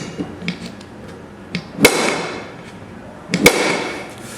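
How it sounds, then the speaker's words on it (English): A chisel bit works dents out of a metal license plate, giving two sharp, loud metallic strikes about a second and a half apart, with softer taps and light clatter in between. "We can come in with our chisel bit"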